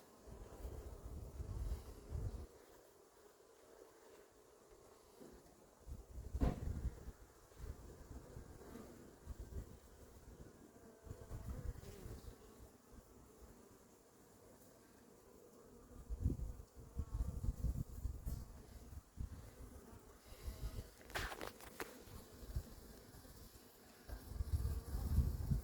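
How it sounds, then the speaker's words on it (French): Hornets buzz faintly in bursts that swell and fade as they fly around a beehive capture box, with quieter stretches in between. "Un autre frelon est arrivé autour de la boîte."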